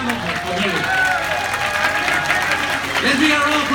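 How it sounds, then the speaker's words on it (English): Audience applause fills the room aboard a cruise ship lecture, a steady dense wash of clapping that holds evenly from start to finish, with voices faintly mixed underneath. "Fuertes aplausos"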